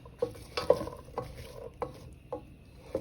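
Ingredients for creamy potato soup fry quietly in a pan over raised heat, with a low sizzle under soft, evenly spaced stirring scrapes about every half second. No one speaks.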